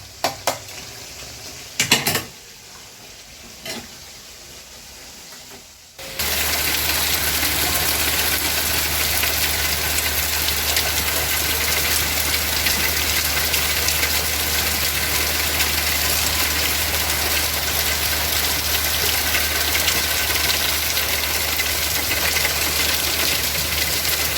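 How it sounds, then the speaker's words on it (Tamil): Heavy rain pours down steadily, a loud, dense hiss that lasts more than fifteen seconds after a few clatters of kitchen sounds while goat curry is being cooked. "நல்லா ஜோன்னு மழை பெய்யுதுங்க."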